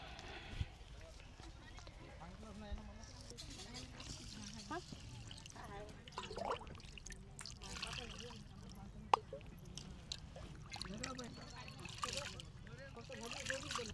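Dal being rinsed in water before it goes into a pressure cooker, cooked outdoors for a village fair feast: soft trickling and sloshing of water running steadily beneath close, continuous talk.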